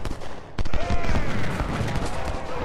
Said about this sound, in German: Kanonen. Feuerfrei auf die Mitte.